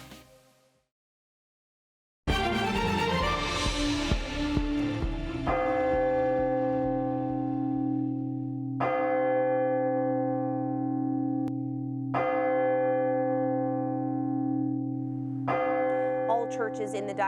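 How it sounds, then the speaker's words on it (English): A church bell in the Diocese of Brooklyn tolls slowly, each loud resonant strike ringing out and decaying before the next, about five strikes heard at even intervals after a brief moment of quiet. "Churches in the Diocese of Brooklyn tolled their bell 21 times for the victims of the Texas school shooting."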